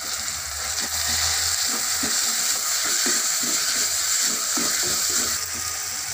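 Crushed garlic sizzles in a pan of frying onion and tomato for a Tamil karamani and bottle gourd kuzhambu, a steady loud crackle with rhythmic stirring clicks and no talk.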